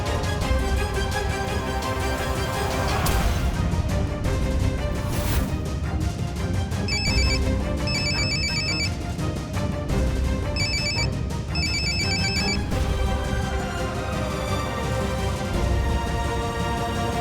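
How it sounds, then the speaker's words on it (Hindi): A phone rings in repeated electronic bursts, bright and insistent, over a constant music bed that plays throughout. "देखिए मीरा जी, मुझे बार बार फोन करना बंद कीजिए"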